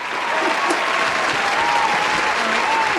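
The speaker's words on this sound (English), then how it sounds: "Let's give her a hand clap." Audience clapping for a woman named Liz, a steady, dense burst of many hands lasting about three seconds, moderately loud and even, with faint murmuring voices beneath.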